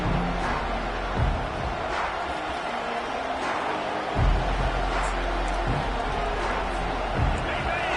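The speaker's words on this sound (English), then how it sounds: "This crowd trying to show them what it's going to be like all day in this house." Stadium crowd at an Auburn college football game, a dense continuous roar with swelling cheers, heard under a play-by-play commentator's voice.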